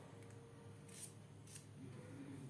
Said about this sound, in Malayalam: ഈ ബാക്കി നിൽക്കുന്ന തുമ്പുകളൊന്ന് കട്ട് ചെയ്ത് കൊടുക്കാം